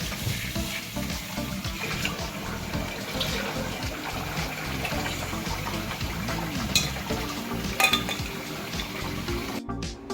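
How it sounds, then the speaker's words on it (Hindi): Rice grains washed by hand in a pot or bowl of water, a continuous close swishing and splashing with faucet-like running water throughout, loud and steady with no talk. "आम फर्स्ट चाउल को भलसे धोई नेबा 2-3 थर।"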